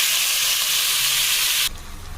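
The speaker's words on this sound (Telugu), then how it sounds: "ఇప్పుడు ఇందులో మనం మ్యారినేట్ చేసుకుని చికెన్ వేసుకుందాం" Marinated chicken frying in hot oil with cashews and shahi jeera, a loud continuous close sizzle that drops sharply to a quieter hiss near the end.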